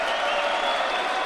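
Spectators applauding at the 2016 Judo Grand Prix in Almaty after a penalty is given: a dense, steady wash of clapping and crowd noise, heard briefly and without clear talk.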